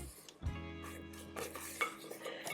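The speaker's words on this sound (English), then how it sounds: "I'm just going to scrape down the bowl because there is some sugar sticking to the sides." A spatula scrapes sugar from the sides of a mixing bowl while baking caramel chocolate cookies, giving a few short, close scraping and clinking strokes against the bowl with a brief tonal ring partway through.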